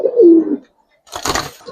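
A Giribaz pigeon of aluminium silver colouring gives one short, close, low coo, followed by a brief pause and a burst of rustling flutter.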